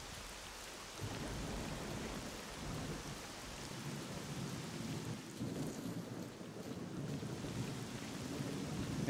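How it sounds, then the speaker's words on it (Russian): Thunder and rain in the video game S.T.A.L.K.E.R.: Clear Sky: steady rain hisses throughout while low thunder rumbles roll in and swell, with no voices. "А что это? Гром."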